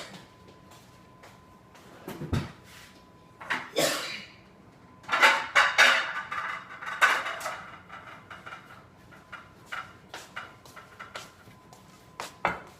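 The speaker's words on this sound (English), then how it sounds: "Let me get a pan I can bake my rolls in." A baking pan is pulled from a kitchen cupboard, with scattered clanks, knocks and scrapes of metal and wood coming in short, uneven bursts, close and moderately loud, with no talking.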